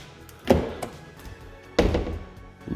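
A stuck door on a badly smashed, recalled 2019 Chevy Bolt gives two solid, close thunks as it is tugged. Each thud is sharp and short, with a quiet pause between them.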